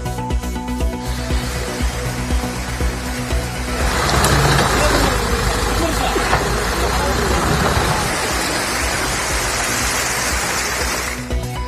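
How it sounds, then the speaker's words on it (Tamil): Heavy rain pours down at Kil Kotagiri in the Nilgiris hills during a landslide. A steady, loud hiss of rushing water swells partway through and continues throughout. "நீலகிரி மாவட்டம் கீழ்கோத்தகிரியில் கனமழையால் மண் சரிவு"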